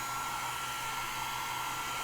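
A handheld dryer blows a steady, even whirring rush close by while drying chalk paste, unbroken throughout with no talking.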